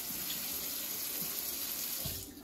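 Cold tap water runs steadily into a jar of sprouting seeds with a lid, a close continuous splashing rush that tapers off at the end.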